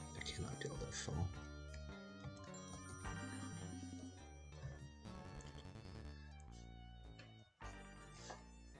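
A telephone rings insistently amid the game's busy, layered music and effects in The Textorcist, the ring blending into the dense soundtrack.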